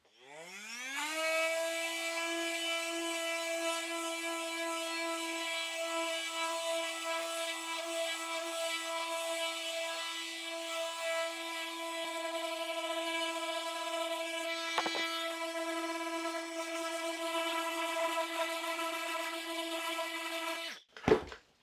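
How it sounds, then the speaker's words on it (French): A Festool OSC 18 cordless oscillating multi-tool sands with 120-grit paper at speed setting 6. It spins up into a loud, steady, high-pitched whine that holds for about twenty seconds and then cuts off abruptly. "Allez, dernier test, le test du ponçage. Donc là, j'ai un grain en 120."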